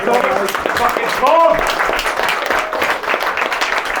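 Wedding guests clapping after a speech at a reception, a fairly dense round of applause mixed with chatter and voices talking over it throughout.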